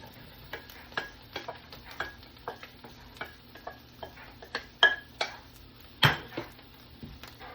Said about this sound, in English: So I'm just gonna let it sizzle a little bit.